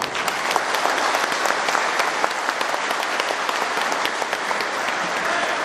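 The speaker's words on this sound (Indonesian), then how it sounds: "Sekali lagi beri aplaus" An audience applauds Anies Baswedan at a discussion event, a dense sustained burst of clapping from many hands, loud and close, running steadily for several seconds without a break.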